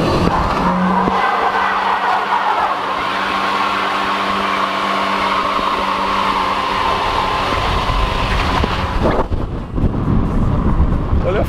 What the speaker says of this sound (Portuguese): a gente fez um burnout com um Santana preto